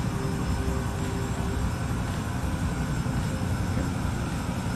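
A helicopter in a video game flight simulator drones steadily in flight, a loud continuous engine and rotor roar with no breaks, no voices over it.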